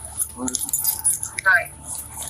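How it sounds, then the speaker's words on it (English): A set of keys jingles briefly as it is pushed into a back pocket during a police stop, a few quick close metallic rattles with voices murmuring in the background. "Put your keys in your back pocket."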